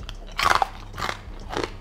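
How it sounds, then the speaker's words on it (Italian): Someone bites into crunchy dried organic mango, three loud close crunches spaced apart with quieter chewing between them. "Vuoi del mango bio croccante?"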